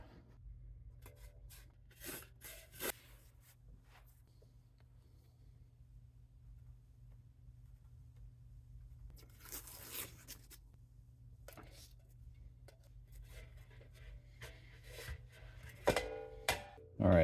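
Masking tape torn from the roll and pressed on to mark out hole points on a mini smokeless fire pit: a few short, quiet rasping rips spaced apart, with soft handling rustles in between and no talking.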